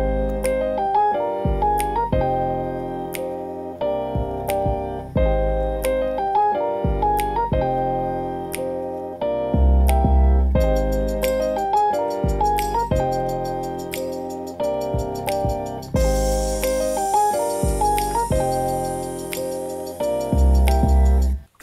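A hip-hop beat plays alone. Sharp finger snaps land on a regular rhythm over looping piano chords and deep 808 bass, and a jingling tambourine joins in the second half.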